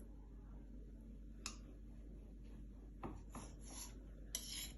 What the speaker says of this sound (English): So now let's trim the edges.